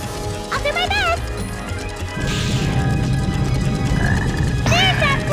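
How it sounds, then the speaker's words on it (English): A black frog enemy croaks in the video game Sonic Heroes, with repeated warbling croaks over a busy game soundtrack, a crash midway and character voice lines in between. "There's that black frog again!"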